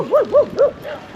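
A dog gives three quick, whining yips close by, followed by a softer trailing whimper, out on rural horse country where trikes are ridden.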